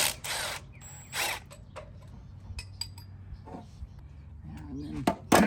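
A ratchet loosening bolts on a Scag Freedom Z mower, with bursts of rapid clicking from the pawl separated by short pauses and a few metallic clinks, close by.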